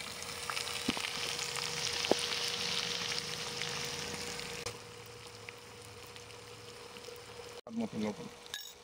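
Chopped onion with cardamom, cinnamon, cloves and black peppercorns fries in oil with cumin in a pan, giving a loud, dense, close sizzle that settles to a quieter crackle, with a few stirring knocks near the end.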